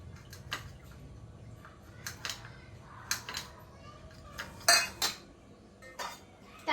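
A metal cooking pot and small bowl are handled while making wheat-flour nankhatai biscuits, giving scattered clinks and clatters of varying loudness close by, with quiet pauses between them.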